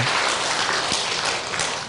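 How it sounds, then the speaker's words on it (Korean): An audience at a Won Buddhist volunteer association officers' training lecture breaking into applause, a broad wash of many hands clapping at once, strong at first and fading slightly toward the end. "박수가 나와야 됩니다"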